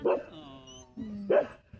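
A puppy gives a few sharp, close barks with whiny tonal yips between them, loud and separated by short gaps.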